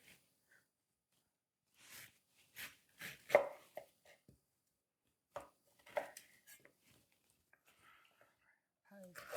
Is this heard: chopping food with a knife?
yes